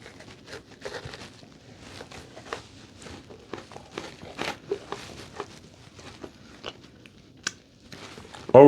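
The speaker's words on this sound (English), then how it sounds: "You really get the crunch of both of the thin cookies on top." Repeated crisp bites and chewing of a thin, crunchy Crumbl kataifi sandwich cookie, close and fairly quiet, with irregular crunch bursts spread steadily throughout and no talking.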